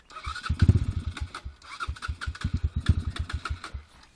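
Motorcycle engine held on light throttle, a steady near putter of rapid firing pulses with slight rises and dips in revs, running alone without talk.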